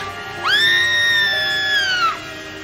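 A woman in a horror film lets out a single sustained, piercing scream of fright that lasts about a second and a half, loud and close, with nothing else over it.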